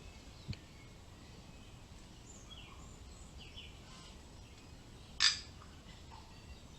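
Tui, a native New Zealand bird, calls inside a quiet forest with a few sparse, distant chirps and warbles and one brief louder burst of song, set against near silence.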